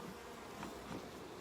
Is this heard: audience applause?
no